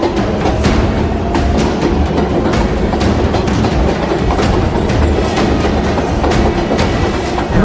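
A train rolls steadily past on the tracks, loud rumbling with regular clickety-clack wheel beats throughout, no voices.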